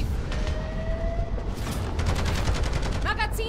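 An automated turret in Modern Warfare Zombies fires rapid bursts of gunfire, loud and close, mixed with mechanical clicks and whirs. Chatter runs underneath.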